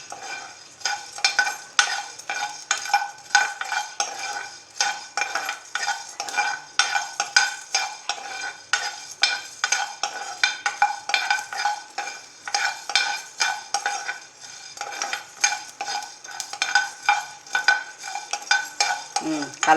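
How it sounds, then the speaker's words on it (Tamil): Coriander seeds dry roasting in a pan for chicken masala powder, a rapid rhythmic rattle and scrape of seeds stirred against metal, repeating steadily and close with no talk. "மல்லியை வறுத்துக்கிடுவோம். கருக விடாமல் பொன்னிறமாக வறுத்து எடுத்துக்கணும்."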